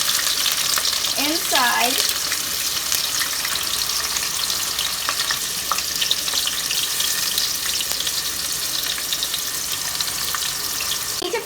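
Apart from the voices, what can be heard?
onion frying in a pot for biryani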